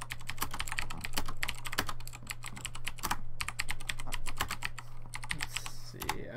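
Rapid, steady typing on a computer keyboard during a Minecraft session: dense, close clicking keystrokes with only brief pauses, heard alone over a low constant hum.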